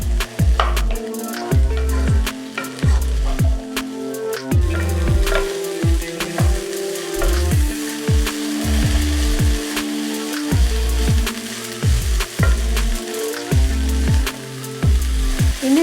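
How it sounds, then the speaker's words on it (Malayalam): Beans and cabbage sauté for a mixed vegetable stew over a medium flame, a steady close sizzle broken by repeated stirring and scraping taps through the pan, no voices. "ഇനി എല്ലാം മീഡിയം ഫ്ലെയിമിലിട്ട് ഒന്ന് നല്ലോണം ഒന്ന് വഴറ്റിയെടുക്കാം നമുക്ക്."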